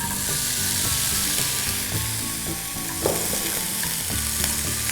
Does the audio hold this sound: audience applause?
no